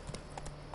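Horse hooves clip-clopping in The Witcher 3 video game, a few quick thuds over under a second, faint against game ambience.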